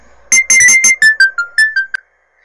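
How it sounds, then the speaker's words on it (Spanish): Telephone ringing with an incoming call: a quick burst of loud electronic chirping rings in rapid rhythm, then a final chirp and silence. "Es una llamada de Shanghai, capitán."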